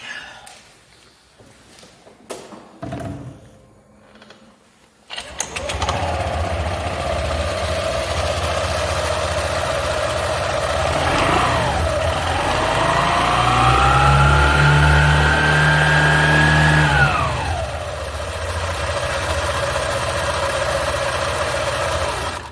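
After a variator and drive-belt service, a scooter engine starts following a few seconds of quiet handling noises, then idles steadily and loudly up close, revs up smoothly and drops back to idle.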